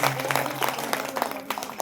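Devotees at a temple jagran clap along, a busy patter of scattered hand claps mixed with crowd noise and music, fairly faint and distant.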